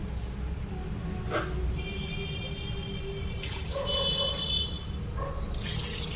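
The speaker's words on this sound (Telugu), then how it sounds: "ఇంకొంచెం వాటర్ వేసుకొని" Water poured into a cooking pot of simmering sambar with tamarind and vegetables, a steady close splashing trickle with a few clinks, continuous and moderately loud.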